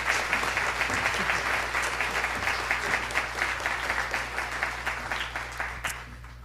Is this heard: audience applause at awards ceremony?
yes